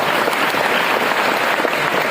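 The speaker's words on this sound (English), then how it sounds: "I knew you would clap for this" A large audience at a spiritual talk breaks into dense, loud, continuous applause, a thick sustained roar of clapping with no speech on top.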